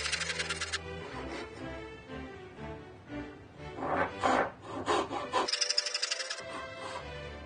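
Handsaw cutting the waist of a wooden tenon for a 17th-century seat, with uneven rasping strokes, some quicker bursts and a brief pause, close and moderately quiet.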